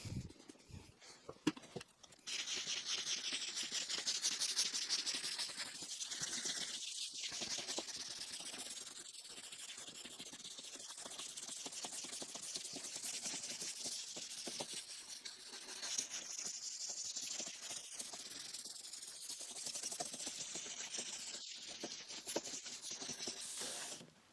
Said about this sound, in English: going to switch on to the second piece of sandpaper now.